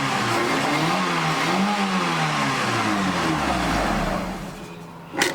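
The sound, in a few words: car engine revving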